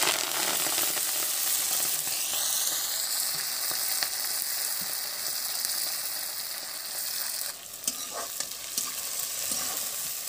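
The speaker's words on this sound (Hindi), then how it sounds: "तेल अब गरम हो गया तो मेथी के फोरन दे देबो।" Fenugreek seeds fry in hot oil in a heated kadhai, giving a steady, loud sizzle and crackle that runs throughout, with a brief stirring scrape near the end and no talk.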